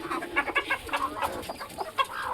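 A brooding hen sitting on eggs clucks close by in a quick run of soft, repeated, uneven clucks, with almost no voices around.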